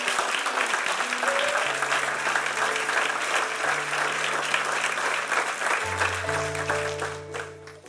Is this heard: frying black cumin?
no